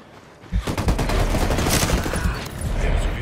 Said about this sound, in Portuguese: Jogando granada de flash.